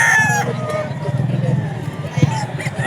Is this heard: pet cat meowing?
no